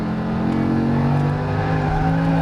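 A Lamborghini Huracan LP610-4 driven on a racetrack accelerates under throttle, its engine a steady, loud, close drone with layered harmonic tones holding for a couple of seconds, no talking.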